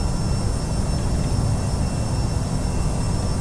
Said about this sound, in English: I have my engine noise